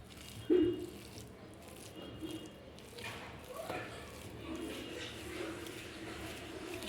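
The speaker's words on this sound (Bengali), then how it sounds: "এখন ডিমটাকে পিষে নেব" Boiled egg being mashed for Bangladeshi egg bhorta, soft wet squishing and pressing close by, a sharper squish early and quieter kneading sounds after.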